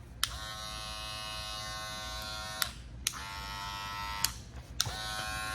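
A Gamma+ skin clipper with a super torque motor at 7,200 RPM runs in steady close bursts, a bright harmonic buzz switching on and off three times with sharp clicks at each start and stop.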